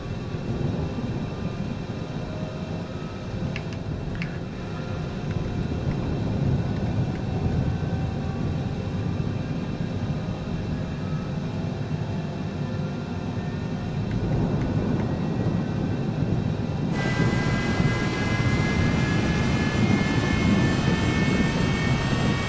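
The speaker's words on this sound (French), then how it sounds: "entendre comment les moteurs démarrent." Cessna Citation CJ4 jet engines spooling up in Microsoft Flight Simulator 2020, a steady broadband roar that grows louder, with rising whining tones joining near the end.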